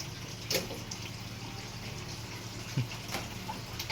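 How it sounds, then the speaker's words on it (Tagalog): Water running steadily into a bucket, a faint continuous splashing stream with a few brief louder clunks and splashes, heard close and without talk. "Dapat punuin niya ng punuin ang timba ha."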